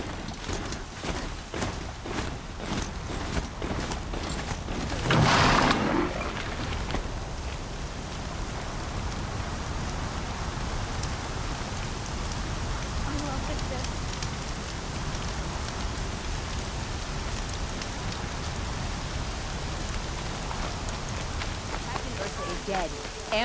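Steady, dense rain falls across the Horizon Zero Dawn landscape, with a brief louder rush of water near the start. Speech is heard over the constant downpour.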